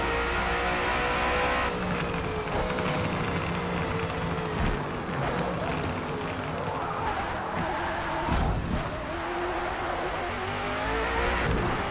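Race car engine in Forza Motorsport, an Australian Supercar at Bathurst, revving hard and loud throughout with shifting pitch, tire squeal and skidding, and a brief burst near the end.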